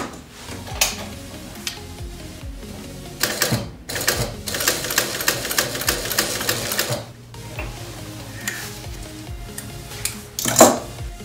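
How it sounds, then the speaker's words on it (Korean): A sewing machine stitches the border of a leather putter cover, a loud, rapid mechanical clatter that runs in bursts with short pauses between them, close up and with no talking. "바느질을 다시 미싱으로 해보겠습니다"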